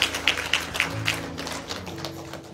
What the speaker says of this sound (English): Give Jesus another hand clap